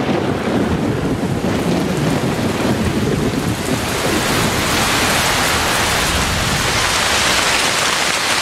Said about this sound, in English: By the end of December, the rains have arrived with full force.